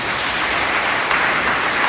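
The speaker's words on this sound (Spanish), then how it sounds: "Dame un aplauso al Señor por eso." A church congregation applauds during a sermon, a loud, dense and unbroken burst of clapping from many hands filling the room.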